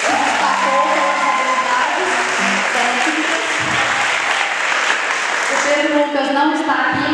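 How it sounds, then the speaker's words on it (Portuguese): Ninth-grade graduation audience at a municipal school applauding, a loud sustained wash of clapping from a large crowd, with a voice speaking over it and the clapping thinning toward the end. "eu peço uma salva de palmas para o nome dele"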